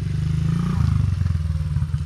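A dirt bike engine labors loudly and close during an enduro hill climb, its low, throbbing drone pulsing steadily as the rider works up the slope.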